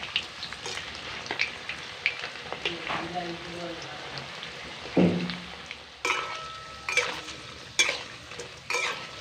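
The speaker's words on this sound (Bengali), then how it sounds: "সমস্ত পকোড়াগুলোই উল্টে পাল্টে বেশ লালচে করে ভাজা হয়ে গেল।" Battered pointed gourd (parwal) pakoras fry in hot oil, a soft bubbling sizzle broken by close clinks and scrapes of a metal utensil against the pan as the fritters are turned.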